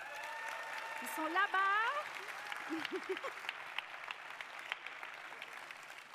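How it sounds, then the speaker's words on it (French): Audience applause at a business association gathering in Lyon, a steady bed of clapping running throughout, with a voice speaking briefly near the start over it. "On peut applaudir."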